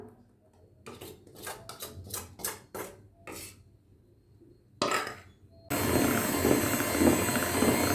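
Butter and chocolate being mixed into beaten sugar for brownie batter, with a run of separate utensil scrapes and clinks against the bowl, followed by a steady, louder mixing noise that continues to the end.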